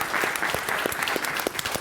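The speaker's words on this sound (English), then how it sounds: "So I think everybody should give them a round of applause at" An audience at a veteran career panel at Full Sail University applauding, many hands clapping in a steady, fairly quiet patter with a few distinct louder claps, heard alone.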